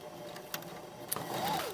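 A sewing machine stitches close to the edge of a skirt waistband in a brief, soft burst of mechanical whirring with a couple of sharp clicks.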